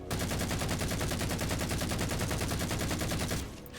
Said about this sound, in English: let this AR rip, and you're going to hear just how throaty this thing sounds